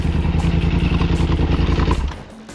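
Motorcycle engine chugs loudly on a wooded trail, a steady throbbing idle with rattling clatter, then drops off abruptly near the end as the bike bumps into a log.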